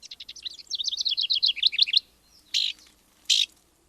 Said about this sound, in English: just hearing that puts me in mind of spring, when the downy is out examining trees for nesting sites.